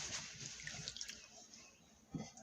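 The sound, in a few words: tap water rinsing soap off groceries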